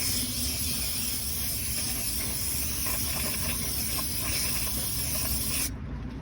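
Carb cleaner sprayed steadily over a Saab brake assembly during a brake pad replacement, a loud continuous close-up hiss lasting several seconds before cutting off abruptly, no voices.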